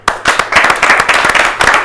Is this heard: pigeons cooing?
no